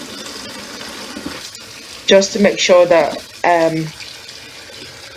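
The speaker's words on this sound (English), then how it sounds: "I'm going to wash the chicken again thoroughly with lukewarm water" Lukewarm tap water runs steadily into a sink as raw chicken is washed, a constant moderate hiss of flow heard close by, with someone talking over it partway through.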